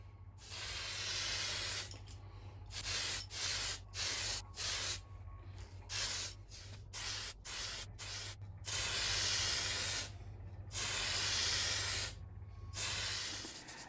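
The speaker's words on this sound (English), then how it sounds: "Before we spray the white base coat, we need to prime all of the parts. We'll be using Tamiya White Primer." A spray can lays Tamiya white primer onto model rocket parts for an Estes 1/100 scale Saturn 1B kit, giving a run of short and longer hissing bursts separated by brief pauses, close and steady.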